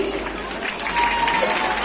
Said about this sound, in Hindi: थोड़ा सा जोर से ताली बजा देंगे हम अपने जितने भी होस्ट हैं, जितने भी डांसर्स हैं, उनके लिए प्लीज